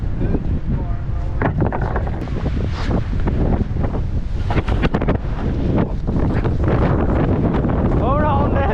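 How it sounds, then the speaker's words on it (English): Strong wind roars and buffets the microphone on a rooftop during roofing work in high winds, loud and continuous throughout, with voices talking under the gusts. "So windy up here."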